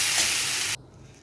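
Potatoes and onions frying in a pan with salt and turmeric make a bright, strong close sizzle that cuts off abruptly partway through, leaving a faint low background.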